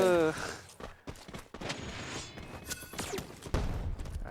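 Gunfire in a Free Fire battle-royale match, scattered bursts and shots amid game effects, heard under excited Thai commentary.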